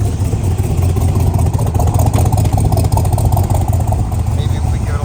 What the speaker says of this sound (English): Maybe if we give it a little rev.